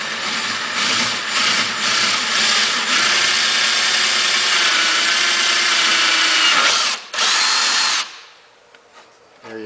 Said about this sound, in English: We will drill a hole for the control cable.